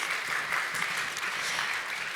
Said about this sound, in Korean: 다시 한번 두 분께 박수를 좀 보내주시기를 바랍니다.